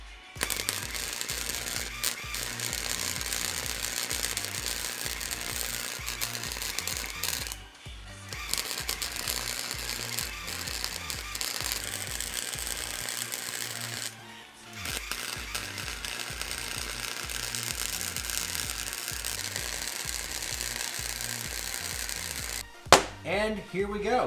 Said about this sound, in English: So now what we're gonna do is go ahead and weld this.